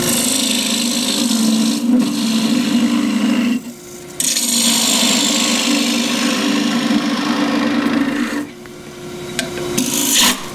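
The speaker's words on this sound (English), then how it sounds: "3/8 bowl gouge rather, and with this you should have the inside out, the bulk of it out in half a dozen cuts at the most." A 3/8 bowl gouge hollows the inside of a cross-grain wooden box spinning on a lathe, giving a steady close rasping, scraping cut that pauses briefly twice, then resumes.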